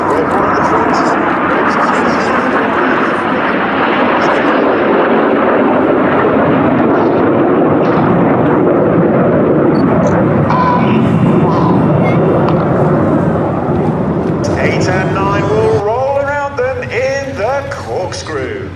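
Formation of aircraft at the RAF100 Battle of Britain Airshow at Duxford, with the lead aircraft at the front, a loud continuous engine roar overhead that swells and fades, with a commentator talking throughout.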